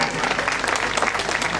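Loud applause from a crowd at a BJP candidate's campaign rally in Sadhrana, Badshahpur, a dense steady clatter of many hands filling the whole stretch without pause.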